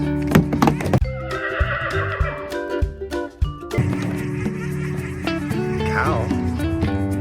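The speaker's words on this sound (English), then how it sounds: "Horse." A horse neighs within a toy farm-animal play scene, the whinny rising over a steady bed of bright music, with a few knocks and clatters from toys near the start.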